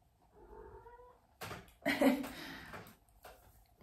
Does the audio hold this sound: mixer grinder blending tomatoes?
no